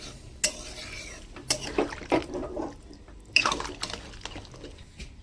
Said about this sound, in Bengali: জল দিয়ে এবার নেড়ে দেবো।